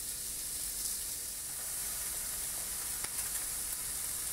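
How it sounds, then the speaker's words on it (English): A steak sears with no added fat in an AGA cast aluminium non-stick pan, giving a soft, continuous sizzle and hiss that stays even and fairly quiet, with a faint tick or two and no talking. "the secret to cooking any steak really well on any cooker is to sear fast, which we've done here"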